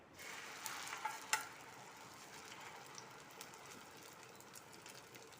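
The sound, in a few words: egg frying in hot mustard oil in a pan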